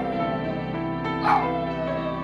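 A sad dog whimpers and cries, soft plaintive whines rising briefly midway over a steady tonal background.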